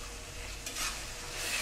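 Garlic ginger paste fries lightly in a pan for a chicken curry, a soft, close sizzling hiss with a brief stir in the middle, steady and fairly quiet over a short stretch with no talking.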